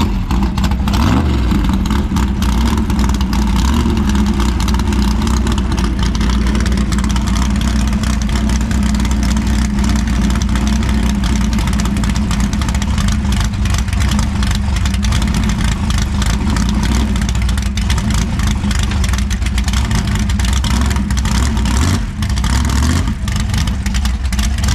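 A Chevrolet S10 pickup sits idling during a trans brake test, its engine making a loud, close, continuous rumble that holds steady for the whole stretch.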